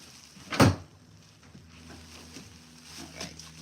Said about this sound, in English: My drawer is stuck.